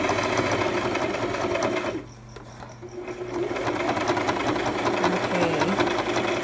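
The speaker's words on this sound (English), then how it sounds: "I can hear this needle working hard to get through this material." A Brother LX 3817 sewing machine stitches through thick denim, its motor buzzing in a steady, fast mechanical rhythm that pauses briefly near the middle before resuming at full speed.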